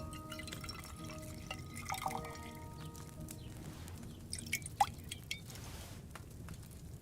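Liquid pours and drips while a potion is brewed in the game Kingdom Come: Deliverance II, a soft trickle with scattered plops and drips over a low background rumble, with no talk.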